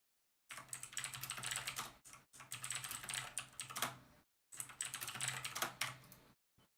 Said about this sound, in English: I appear incapable of typing for some reason.